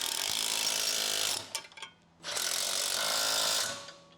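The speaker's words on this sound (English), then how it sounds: "Use an 18mm end wrench with an 18mm impact to tighten the nuts." An 18mm impact wrench tightens rear control arm nuts on a Chrysler, giving two sustained loud rattling bursts of about a second and a half each, separated by a short gap, with no talk.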